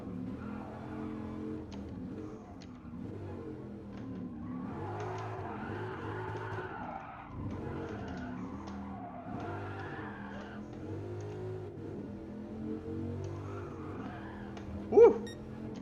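A 2013 Dodge Viper GTS engine droning and revving as the car drifts in a racing game, with a brief sharp tire squeal near the end, steady and mid-level, no talk.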